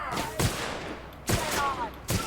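Gunfire in The Outer Worlds: three sharp, separated shots at roughly even intervals, fairly close and punchy, over a low ambient background.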